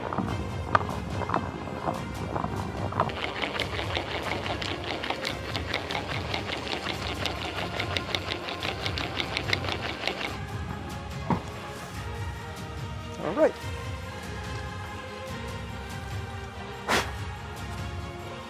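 Hand-cranked drill boring into steel in low gear, with no electricity: a fairly faint, fast rhythmic mechanical whirring for several seconds, then a few scattered clicks and knocks once it stops.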